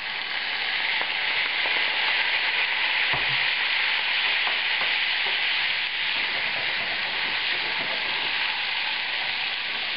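Steak searing in butter in a pan for steak au poivre, a loud, dense, continuous sizzle heard close and alone, with a few faint ticks and pops under it.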